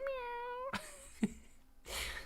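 A voice imitates a cat with a drawn-out meow, followed by a few sharp clicks and a burst of breathy noise, quiet and close.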